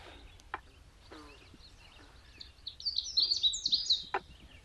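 A Canada warbler sings a quick, bright warbling phrase, fairly close, after a few scattered clicks and quiet sounds.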